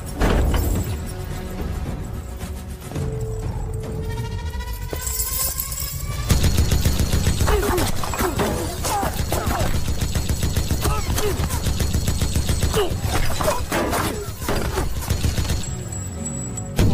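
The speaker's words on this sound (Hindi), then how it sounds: "भाई एक मशीन गन लेके गाड़ियों को उड़ाते नजर आ रहे।" Machine gun fire blows up vehicles in the KGF Chapter 2 action teaser: rapid bursts of shots mixed with crashes and impacts, loud and dense across the scene, with some voices underneath.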